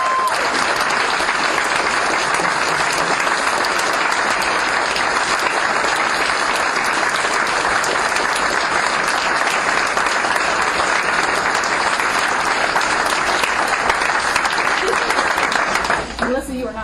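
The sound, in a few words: audience applause at promotion ceremony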